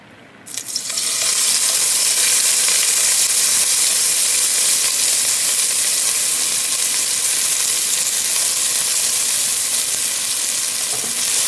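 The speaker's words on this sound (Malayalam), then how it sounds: "സൺഫ്ലവർ ഓയിലാണ് ചേർക്കുന്നത് ഇതൊന്ന് ചൂടായി വരുന്ന സമയത്ത് നമുക്കിതിലേക്ക് സവാള അരിഞ്ഞു വെച്ചിരിക്കുന്നത് ചേർത്ത് കൊടുക്കാം" Sliced onions fry in hot sunflower oil in a pan for pulao, a dense, steady sizzle and hiss that jumps up loudly at the start as they hit the oil and carries on evenly with no voices.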